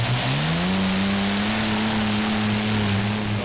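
Green Fighter, a heavy modified pulling tractor powered by triple Allison engines, roars with a loud, sustained drone that climbs in pitch over the first second and then holds steady.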